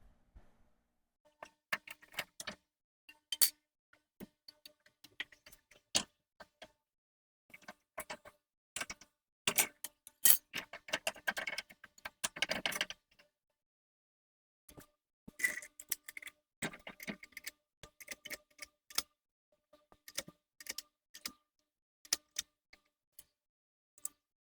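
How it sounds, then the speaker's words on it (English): A come-along winch is ratcheted on a Jeep TJ during front upper control arm bushing work, giving quiet, close, irregular bursts of sharp clicking with short pauses and no talk. "Then I can pull on the come along to get my bolt started."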